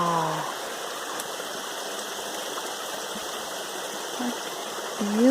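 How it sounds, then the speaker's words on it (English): A stream runs beneath fallen wood at the end of a lake in the Boundary Waters, a steady close rushing burble, with brief bird chirps near the start and end. "Water's running underneath all these wood."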